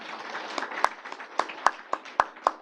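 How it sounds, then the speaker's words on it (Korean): A small church congregation claps during a Sunday worship service, with scattered, uneven hand claps rising over a soft murmur of voices, a few sharp individual claps punctuating the quieter background. "박수합니다."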